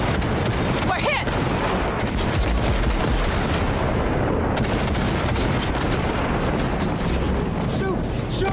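Sustained gunfire from a firefight in the video game Cyberpunk 2077, dense and continuous across the whole stretch, with loud bursts layered over one another and voices shouting amid the shooting.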